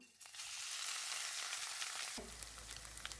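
Minced meat hitting hot oil in a pan, a loud burst of sizzling that holds steady, then a sudden shift to a lower crackling fry with stirring clicks, and no speech.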